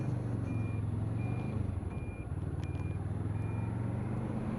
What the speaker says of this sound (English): that beeping, if you're hearing it, that's just my indicator